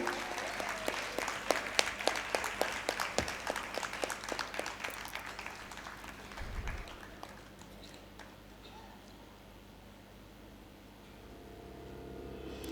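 Crisp applause at a theatre award ceremony, loud dense clapping that fades to a low murmur partway through.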